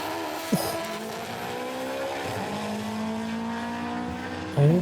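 A race car launches hard with tires squealing and a high engine note sweeping up through the gears, loud and steady throughout with a sharp chirp near the end.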